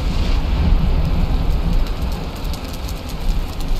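Steady dense rainfall in the video game Valheim, a continuous broad hiss with low rumbling underneath, loud and unbroken throughout.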